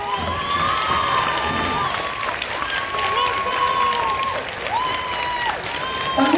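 Lively applause from the crowd at a high school graduation ceremony, clapping mixed with cheers and shouts, along with whistles or squeals rising and falling over the steady clatter.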